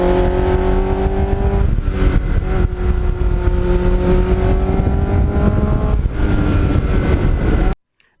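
A 1980s Kawasaki GPX750R motorcycle with a Muzzy aftermarket muffler rumbles loud and close, holding a steady deep engine note with slight rises in pitch before cutting off abruptly.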